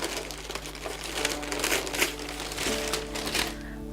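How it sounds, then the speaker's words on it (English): Crinkly plastic packaging around an item from a YogaClub subscription box is unwrapped close up, with a continuous rustling crackle that swells and fades over a few seconds. "Okay, let's unwrap this."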